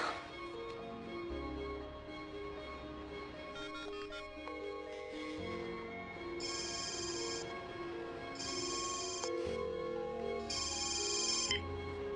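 A mobile phone rings with a repeating electronic melody, several bursts of tones separated by short pauses, heard at moderate distance over soft background music.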